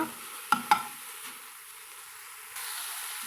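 Manathakkali greens sauté in oil in a pan with a soft, steady sizzle. Two sharp clanks of stirring come early, and the hiss swells slightly near the end.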